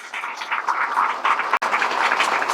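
An audience at a Guru Purnima gathering claps loudly and continuously in a dense, sustained round of applause for Shivaji Maharaj, with a brief cut partway through.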